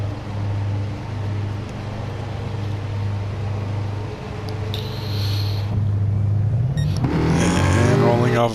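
A race car engine in Gran Turismo hums steadily as the touring car rolls off pit lane, then rises into a louder revving drone near the end.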